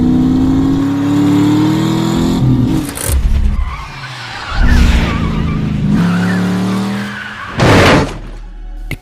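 Cars in a chase scene from the film Drive rev hard and skid, with loud engine roars, tire squeals and sudden thunks coming in close bursts over several seconds.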